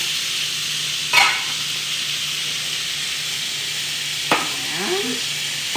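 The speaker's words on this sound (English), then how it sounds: "My pot over here is letting me know it is boiling well." A pot of water boils on a stovetop with a continuous loud hiss, broken by a couple of sharp clinks from the kitchen.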